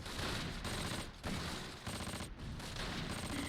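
Mortar fire in the World War II strategy game Close Combat Last Stand Arnhem, a dense run of overlapping booming shots and blasts, loud and continuous over three seconds.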